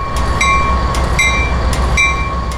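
A freight train passes southward, rumbling steadily, with a rhythmic clickety-clack of wheels over rail joints and a high ringing tone above the heavy low roar.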